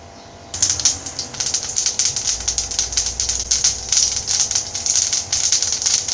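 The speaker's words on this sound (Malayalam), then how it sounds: "കടുക് പൊട്ടി വരുമ്പോൾ" Mustard seeds popping in hot oil in a pan for Kerala-style potato masala filling for masala dosa: a dense, steady crackle of rapid sharp pops that starts abruptly and continues close and fairly loud.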